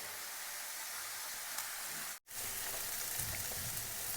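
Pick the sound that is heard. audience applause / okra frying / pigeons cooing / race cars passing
okra frying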